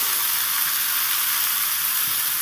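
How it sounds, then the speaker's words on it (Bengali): Chopped papaya, potato and carrot pieces fry in a pan with a loud, steady, close sizzle and hiss that continues without a break. "এবার দিয়ে দেবো গাজরগুলো পেঁপে আলু গাজর সব একসাথে আমি সুন্দর করে ভেজে নেব"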